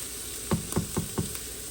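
Sausage bits frying in their own fat in a pan for gravy, a steady soft sizzle broken by several sharp stirring scrapes at a regular pace, close and fairly quiet with no talk.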